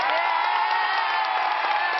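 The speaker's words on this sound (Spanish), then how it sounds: "Aplausos para el papá número tres." A children's party crowd cheers and shouts for a dad, a dense continuous wall of voices and whoops with some clapping mixed in, loud and steady throughout.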